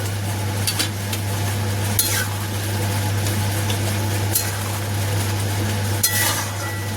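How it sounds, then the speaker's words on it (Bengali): Fried prawns added to a potato curry in a pan, soft scraping and stirring with faint sizzling over a steady low hum of a stove or fan, with a few sharp clinks. "এবার আমি এখানে ভেজে রাখা চিংড়ি মাছগুলো সব দিয়ে দেবো।"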